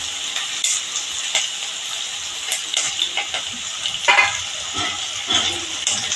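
Curry leaves dropped into hot oil for a Maharashtrian matar poha tempering give a steady close hiss and crackle with small spitting pops, and no voice is heard.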